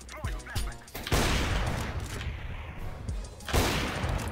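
Bursts of rapid gunfire in CS:GO competitive play, several sharp close shots followed by a sustained loud volley and another burst near the end.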